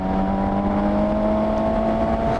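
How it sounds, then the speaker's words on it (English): Airbox induction noise from a 2020 Suzuki GSX-S750 motorcycle engine on the move: a steady loud droning hum with a sustained tonal whine and wind rush, continuous throughout. "It's a kind of sound that should be coming from the exhaust, but it's somehow coming from the airbox instead."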